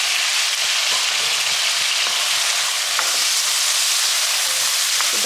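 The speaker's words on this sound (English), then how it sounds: "So I'm adding the tomatoes and chili." Tomatoes and chili fry in a hot tadka, making a loud, steady, close-up sizzle with no breaks. No voices are heard.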